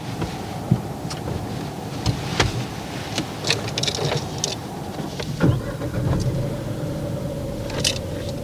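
A learner driver's car pulls away, with steady low engine and road rumble building under cabin noise, scattered clicks and a brief thump, all close and continuous.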